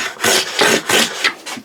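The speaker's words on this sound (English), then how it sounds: "it sounds like it's taking a shaving" A Hong Kong style wooden hand plane pushed over a board in four rasping strokes, each a short breathy scrape; the blade is jamming, so it only sounds like it is cutting a shaving. Close and fairly loud, with no talking.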